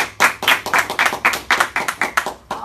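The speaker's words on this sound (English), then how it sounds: "let's give Ricky a round of applause" An audience at a home-buying seminar gives a short burst of rhythmic, close clapping that lasts a few seconds and sounds like a modest crowd, with no voices over it.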